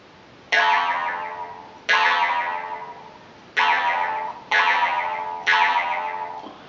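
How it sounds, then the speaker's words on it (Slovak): A jaw harp (drumbľa) twangs in five separate plucked strokes, each one bright and ringing before it fades, with the player shaping la-la vowel sounds through the instrument. "môžeme pridávať rôzne la la la cez drumbľu"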